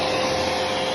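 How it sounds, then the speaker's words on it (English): A PUPCA pet grooming vacuum runs at a steady, close, loud whirring hum without pause, with no voices. "this is way quieter than our hoover"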